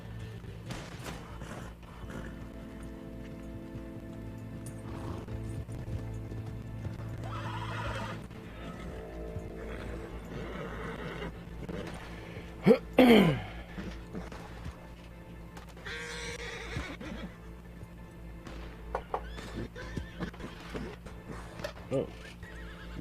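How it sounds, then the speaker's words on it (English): Horse in the Red Dead Online video game neighing loudly in one sharp whinny near the middle, with scattered hoof clops and game ambience around it, while a person talks over parts of the scene. "Why is my horse freaking out?"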